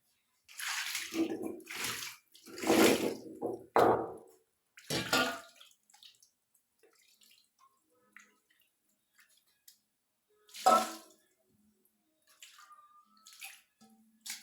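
Water splashed and poured over a traditional stone grinding slab during washing, in several short bursts of splashing and trickling close by, then quiet drips and a final splash.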